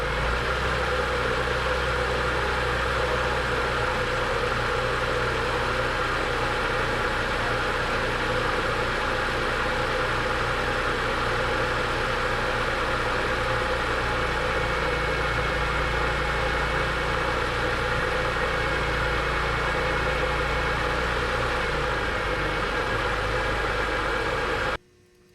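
BMW E46 M3 that had been sitting for a long time, engine idling smoky in place, giving a steady unbroken low mechanical hum and rumble that continues for about 25 seconds before stopping abruptly.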